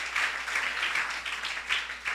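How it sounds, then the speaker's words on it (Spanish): A church congregation claps loudly and steadily during an evening service, a close, dense wash of applause throughout with no speech over it. "ríndele una fuerte ofrenda de aplauso al Dios del cielo"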